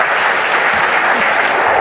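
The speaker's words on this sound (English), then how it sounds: "Give her another round of applause" Dense, steady applause from a conference audience after a keynote on mental health in information security at BSides Nashville 2017, a continuous wash of clapping at even loudness with no voices over it.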